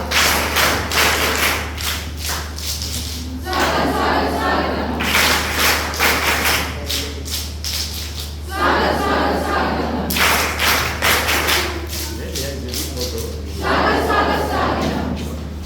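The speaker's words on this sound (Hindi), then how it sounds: "स्वागत ताली बजा।" Welcoming applause from an audience at an outdoor scout and guide camp, with bursts of group clapping coming in waves, fading and returning about four times over steady background hum.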